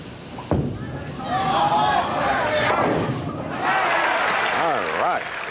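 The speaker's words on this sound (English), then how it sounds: "Fourth frame shot now for George Pappas" A bowling ball strikes pins during a 1979 PBA Firestone Tournament of Champions final match, a sharp thud near the start followed by clattering, with crowd noise and talk continuing over the lane.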